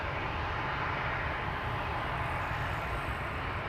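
A jet engine run-up at Amsterdam Schiphol Airport, a steady broadband roar that holds constant and fairly loud throughout, with no voices and no change in pitch or level.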